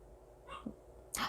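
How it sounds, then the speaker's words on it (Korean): A small house dog gives a couple of short, brief barks or yips at a distance in a quiet indoor room, with no talking over them. "지금 저희 강아지가 좀 짖고 있는데 녹음이 될 수가 있을 것 같아요"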